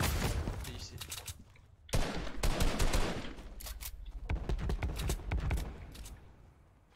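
Rapid bursts of Fortnite Mobile gunfire rattle in quick clusters, punchy and close, with brief lulls between volleys and voices mixed in.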